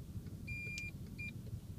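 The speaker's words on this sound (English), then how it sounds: "Slow beeps indicating that the mode 2 is cancelled." Slow electronic beeps from a VW Caddy cruise control system signalling the mode is cancelled, two short tones heard faintly inside the cab over a low idle rumble.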